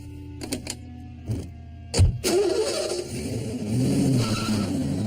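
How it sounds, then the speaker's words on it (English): A few clicks, then a tractor engine cranks and catches, settling into a rough idle before revving louder near the end. "use that noisy tractor of yours to tow my car"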